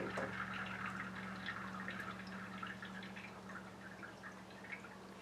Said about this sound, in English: Now we're just going to let this drip a little bit.